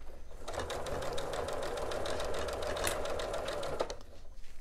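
A sewing machine stitches steadily around a fabric microwave bowl cozy, its rapid needle chatter and motor hum running continuously and close, with a brief change in tone near the end.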